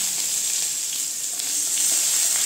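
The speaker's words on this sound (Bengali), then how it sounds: "পেঁয়াজটা হালকা করে ভাজা হবে" Chopped onions sizzle steadily in hot oil in a pan where cumin seeds have already darkened, a continuous bright frying hiss with no pauses and no voices.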